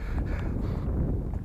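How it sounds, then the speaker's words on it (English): Steady cold wind buffets the microphone outdoors at an RC plane test flight, a low, rumbling roar throughout, no other sounds standing out. "It's too windy"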